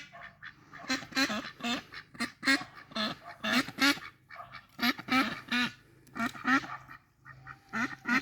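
Ducks on a livestock farm quack repeatedly in close, loud, uneven bursts and short runs, with many overlapping calls and brief pauses between flurries.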